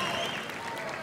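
A graduation ceremony audience at Tarleton commencement claps and cheers, a short steady burst of applause heard from within the hall.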